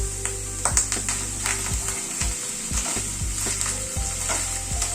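Spices and ginger paste frying in a pan for a paneer curry, a steady close sizzle with repeated scraping stir strokes and low clinks throughout, no voices.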